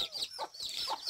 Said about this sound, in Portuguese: Olha como a galinha fica.